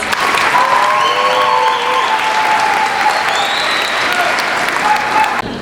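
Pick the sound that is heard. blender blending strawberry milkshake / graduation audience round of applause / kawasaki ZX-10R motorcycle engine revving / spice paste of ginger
graduation audience round of applause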